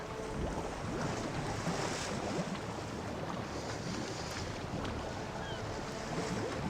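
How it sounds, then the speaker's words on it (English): A wooden warship in the Napoleon Total War game slowly sinks beneath the waves, heard as a steady wash of surf and wind-like sea noise with faint creaks, continuous and fairly loud. "This thing's still sinking below the waves here very slowly."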